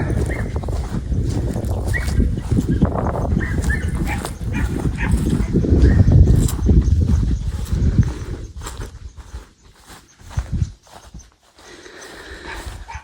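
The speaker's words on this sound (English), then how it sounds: "Hear the dogs barking." Dogs bark repeatedly at close to middle distance around a 1940s church, mixed with rustling and movement noise that fades out toward the end.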